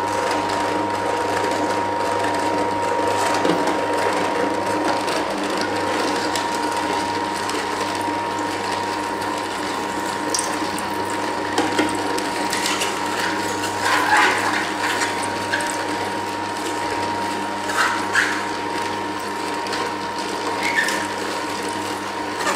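A Froothie Optimum 600 juicer grinds kale and ginger, a steady close mechanical whir with rhythmic ratcheting clicks and gear noise that runs continuously without talk.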